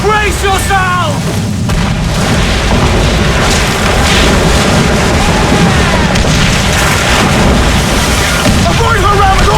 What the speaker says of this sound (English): They are firing, sir!